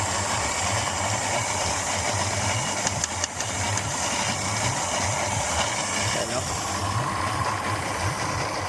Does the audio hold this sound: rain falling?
no